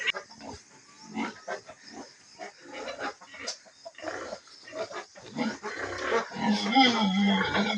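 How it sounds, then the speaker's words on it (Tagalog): Pigs in a pen on a small farm grunt and snort close by, a continuous rough chorus of oinks and squeals with a person talking over them. "Og diyan na ta diri sa ad ni Maki sa iyang babuyan"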